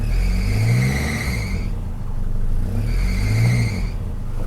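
A Mercedes W123 230TE idling with the air conditioning on, its engine rumble carrying a high squeal that rises and fades in two cycles, close and loud with no voices.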